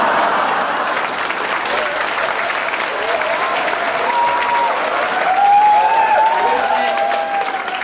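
Loud, sustained audience applause at a large supporters' assembly, dense clapping mixed with crowd noise and some voices rising above it, steady throughout.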